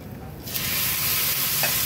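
Barnyard millet dosa batter hits a hot pan and breaks into a loud, steady sizzle that starts abruptly and continues unbroken, close up with no voices.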